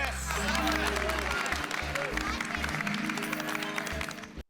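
At an Independence Day program, a crowd claps and cheers in a broad wash of applause over loud, thumping bass-heavy music, ending abruptly.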